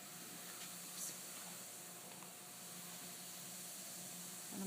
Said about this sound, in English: soda and watch it because see how it fizzes?